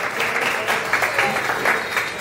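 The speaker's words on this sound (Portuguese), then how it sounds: "Give yourselves a round of applause." Sustained applause from a church congregation at a Sunday evening service, a dense steady patter of many hands filling the room with no voices on top.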